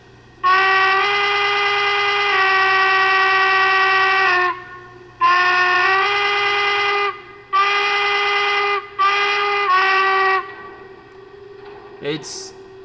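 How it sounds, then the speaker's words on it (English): A Lionel American 4-4-0 model train steam whistle blows in several long, chopped blasts with brief gaps, bright and harmonic, over a low steady hum, ending with a faint click. "we'll go ahead and give the whistle a listen"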